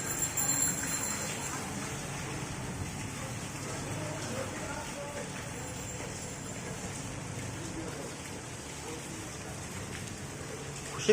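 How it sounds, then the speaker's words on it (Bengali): Heavy rain pours down on a Kolkata street where water has started to pool, making a dense, steady hiss that stays loud and even for the whole stretch. "একটু পানি জমা গেছে, একদম বৃষ্টি হচ্ছে।"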